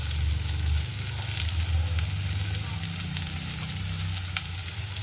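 Fish frying in a pan while being stirred, a small portion seasoned with salt, giving a steady close sizzle with a low bubbling rumble and occasional scraping strokes throughout.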